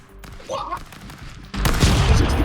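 Bursts of gunfire from the chaotic stick-figure brawler Stick Fight, with a dense, loud volley erupting in the second half over earlier scattered shots and game noise.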